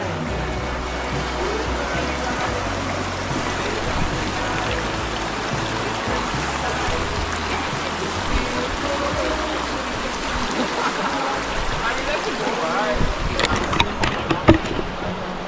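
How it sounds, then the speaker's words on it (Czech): A mountain stream flows steadily near a campsite with no bridge, its broadband rushing wash continuous throughout, with a few louder splashes and clicks near the end. "ale je tu potok"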